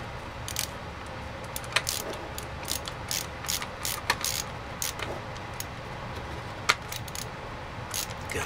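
A screwdriver backs screws out of the faceplate of a Euphonix MC Mix control surface, making a run of small irregular clicks and ratcheting ticks close by at a quiet, steady level.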